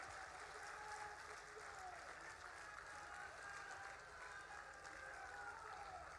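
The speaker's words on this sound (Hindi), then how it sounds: "ऐसी तालियां बजनी चाहिए मेरे साथ। चलो बजाओ" Dense, continuous applause from a large crowd at a political rally in Guna, with the CM and a central minister present, a steady wash of clapping throughout with no break.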